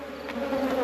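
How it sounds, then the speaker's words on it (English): Honey bees hum in a dense, continuous swarm close by during a homestead honey harvest, a steady buzzing drone with no voices. "I can only hear bees."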